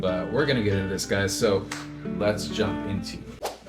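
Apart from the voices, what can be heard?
No distinct noise like a dog, phone or traffic.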